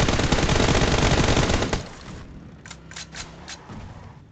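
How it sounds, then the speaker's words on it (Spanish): Rapid machine gun fire rattles in a fast, dense burst during a shooter video game, then cuts off, leaving a few scattered quieter shots and clicks trailing behind. "¡Uy, qué balazos!"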